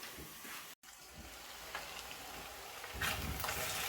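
Tomatoes cook covered in a pan over low heat, giving a steady soft sizzle and hiss that swells slightly louder toward the end, with a brief dropout near the start.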